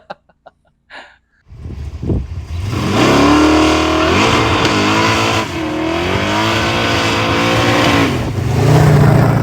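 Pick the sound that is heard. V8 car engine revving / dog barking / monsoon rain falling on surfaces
V8 car engine revving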